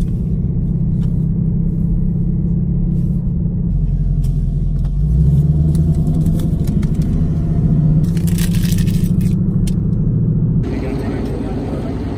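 A 2019 Ford Mustang GT roars past in a drag racing run, engine rumbling heavily and swelling before cutting down near the end, with people talking over it.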